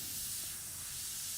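An airbrush sprays translucent illustration paint onto a metal surface in a steady, soft, continuous hiss that holds at an even level throughout, with no voices.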